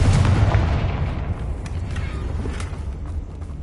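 Confringo explosive spell blast in the Hogwarts Legacy video game: a loud booming detonation at the start that rumbles and decays into a low fading tail.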